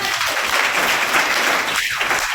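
Steady applause from a crowd, a dense wash of many hands clapping at once, loud and continuous throughout.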